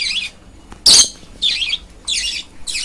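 A pet budgerigar at feeding time gives loud, harsh squawks in short repeated bursts. A brief burst of wing flapping breaks in between them, close to the listener and with no talking.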